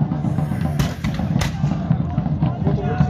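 Gunfire at a 1627 battle reenactment in the Netherlands, a couple of sharp muzzle cracks standing out over a dense outdoor crowd murmur and wind, moderately close.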